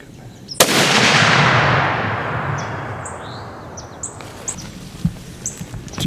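A single loud rifle shot fired at a hog during a hunt, a sharp crack followed by a long rolling echo that fades over several seconds, then scattered small rustles and clicks nearby.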